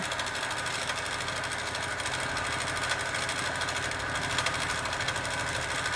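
A quilting sewing machine stitches a petal outline on a quilt panel, giving a steady, close mechanical whirr with a fast regular needle rhythm that runs unbroken and alone for the whole stretch.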